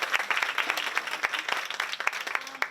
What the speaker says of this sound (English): let's have another round of applause for all of our good